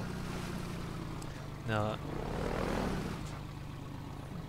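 A boat's motor drones steadily while the boat moves along a river in Half-Life 2, a constant low engine hum with water wash, partly under a man's brief speech and a short tonal blip.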